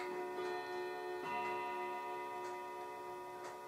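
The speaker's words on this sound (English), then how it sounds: "There goes my clock." An old Victorian carriage clock ticks steadily and distinctly in a quiet room, each tick a sharp, regular click heard alone at close range with no talk.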